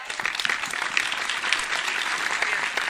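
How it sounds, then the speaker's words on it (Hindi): Loud, dense applause from an audience at a Hindi speaking event, steady claps filling the space without a break and no voices over them. "मैं चाहता हूं कि एक बार जोरदार ताली बजाएं आप"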